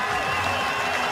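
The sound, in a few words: stadium crowd applauding Sharjeel Khan's century at cricket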